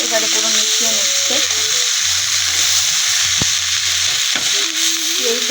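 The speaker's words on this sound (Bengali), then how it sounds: "এবার মা ডিমটা দিয়ে দিয়েছে, এবারে পুরো মিশিয়ে নিচ্ছে" Egg being stirred and fried into homemade chowmein, a loud continuous sizzle close up, with faint tonal background sounds wavering beneath it.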